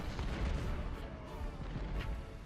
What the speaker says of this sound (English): My cannons are ripping theirs to shreds.